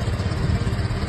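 A motorcycle engine running on Pertalite fuel, a steady low rumbling idle with a slightly uneven, chugging pulse, close and fairly loud throughout.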